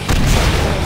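An enemy blowing up in the shooter game Painkiller, a dense, loud low boom that rolls on for about a second without a sharp attack.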